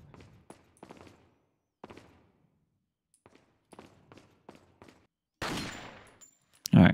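Gunshots in Resident Evil 4 (2005) ring out as a series of sharp, spaced cracks and short bursts, ending in a louder, longer blast and a final heavy thump.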